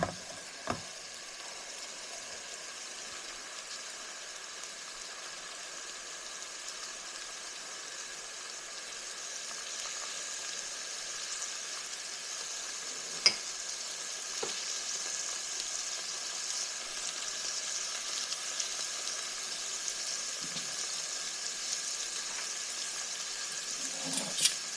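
Chicken frying in a skillet while being stirred gives a soft, continuous sizzle, with an occasional sharp scrape or tick of a utensil against the pan.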